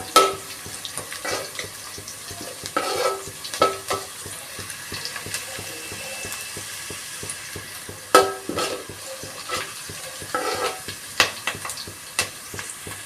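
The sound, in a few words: onions being sautéed in a pan until golden brown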